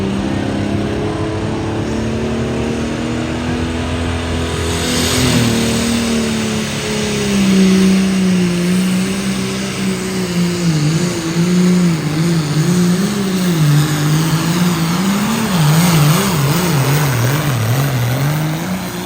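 A modified pulling tractor, the 656, roars through a run at a county fair truck and tractor pull, its engine loud and sustained with rising and wavering pitch, and no talk over it.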